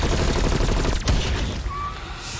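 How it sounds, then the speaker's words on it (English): A stun grenade goes off in the Zombies Outbreak shooter, a dense burst of rapid loud bangs and crackling over roughly a second, with a sharp blast near the middle and a thinner tail afterward. "Stun grenade out."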